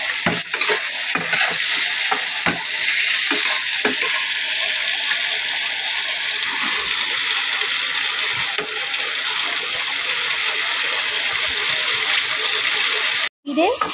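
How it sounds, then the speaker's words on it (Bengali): Food frying in a pan for a hilsa and eggplant curry with kalonji, a steady sizzle with scraping and stirring all the way through, loud and close. "ভেজে নিচ্ছি"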